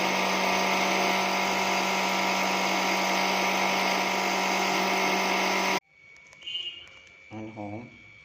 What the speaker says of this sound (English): Mixer grinder create the noise pollution.